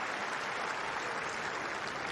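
Spectators at a 2025 London tennis final break into sustained applause, a broad even roar of many hands clapping with no gaps.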